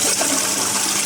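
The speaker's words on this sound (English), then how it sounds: "that was a half flush as well, so it's filling back up" A Flowmasta 6-litre concealed cistern toilet runs through a half flush, a steady close rush of water that holds for the whole moment with no talk.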